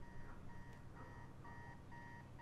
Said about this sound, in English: I thought I could hear an alarm clock.